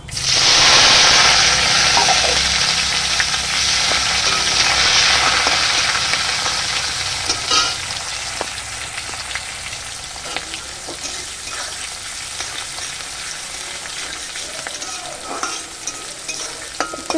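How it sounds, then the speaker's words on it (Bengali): Onions frying in a pan as the base for a fish curry, a loud bright sizzle that is strongest in the first few seconds and then eases to a steady crackle, with sharp stirring clicks and no talking. "প্রথমে আমি পেঁয়াজটা ভেজে নেব একটু"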